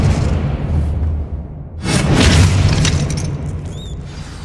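Spell-casting effects in the video game Hogwarts Legacy, a deep booming burst with a whooshing rush after a low rumbling bed, followed by a brief bright shimmering tone.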